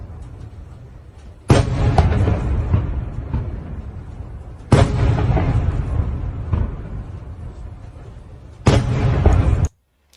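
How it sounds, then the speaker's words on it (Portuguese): Three separate heavy explosions from secondary ammunition detonations boom a few seconds apart, each followed by a long rumbling, crackling tail before cutting off. "São várias explosões no mesmo lugar."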